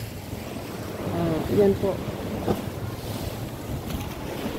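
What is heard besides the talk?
strong sea waves at a seawall during high tide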